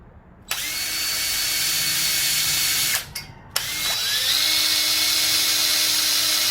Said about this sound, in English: now I got my pilot holes drilled already